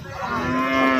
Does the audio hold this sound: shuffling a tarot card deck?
no